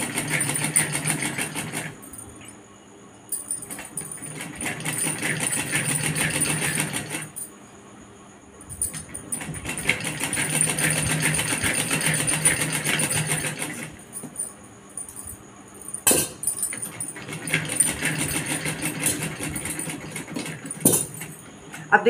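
A sewing machine stitches a pouch made from a handkerchief, running in several steady bursts of a few seconds each with short pauses between, at close range and moderate level.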